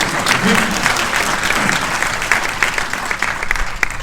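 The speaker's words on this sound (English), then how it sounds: "you can clap anytime you want" Loud audience applause at a panel for the film Maestro, a thick continuous wash of clapping from a large crowd with a few brief voices mixed into the roar.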